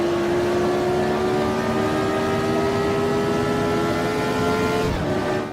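A Formula Retro race car in Automobilista at the Österreichring screams under hard acceleration, one loud sustained engine note rising steadily in pitch before a brief dip near the end.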